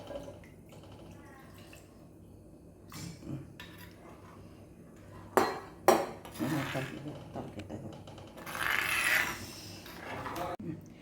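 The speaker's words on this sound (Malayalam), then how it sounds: "ഞാൻ ഇതിലേക്കിപ്പോൾ ഇത് അരപ്പൊക്കെ തിളച്ചു, മീനിടുകയാണ്." Fish pieces go into fish curry paste boiling in a pot, with scattered clinks of utensils, soft splashes and bubbling, and a few louder knocks against the pot rim.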